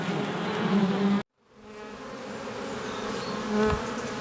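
Bees buzz around a beehive entrance, a dense, close hum that cuts out briefly and then returns steady, with no voices.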